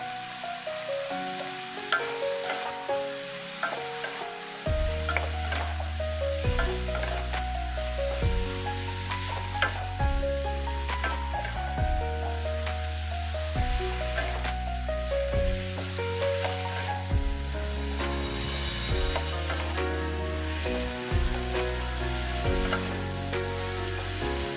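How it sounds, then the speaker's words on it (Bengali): Vegetables with salt and turmeric sizzle in a pan, a steady crackling fry with stirring scrapes under loud background music that starts a few seconds in. "সবজিগুলো একটু ভাজা ভাজা হলে তারপরে দিয়ে দেবো কলমি শাকের ডাঁটা।"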